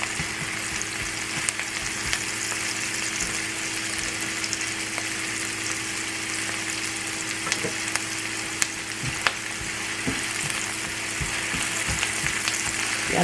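Onions frying in a pan for chicken in cream with mushrooms, a steady low crackling sizzle with faint stirring ticks, close and continuous, with no talk.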